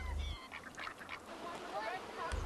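Ducks and geese on a pond quack and honk in short bursts, fairly faint and mixed with outdoor background noise.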